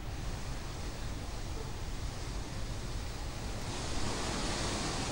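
Floodwater gushes over the Tawi river bridge as a loud, continuous broadband roar of rushing water. The rush swells slightly near the end, with no voices heard.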